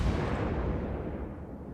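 A Japanese heavy cruiser's 203 mm guns firing high-explosive shells in a naval warfare game: one loud, close, booming blast that rumbles and slowly fades.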